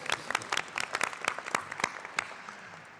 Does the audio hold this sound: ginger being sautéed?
no